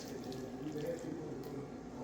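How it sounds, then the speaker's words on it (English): Melted butter poured into a hot cast iron pan, a steady continuous liquid pour and sizzle-like wash throughout, close and even in level with no clear talking. "I'm going to pour the butter over into the pan"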